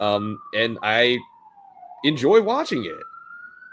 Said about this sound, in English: Also, apologies if you hear a siren in the background.